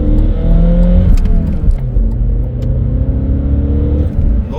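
A white BMW 318i E46 accelerates at full throttle in city traffic, heard from inside the car as a loud, rising engine note that climbs, briefly drops, then climbs again, with road rumble beneath.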